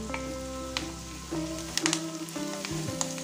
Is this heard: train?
no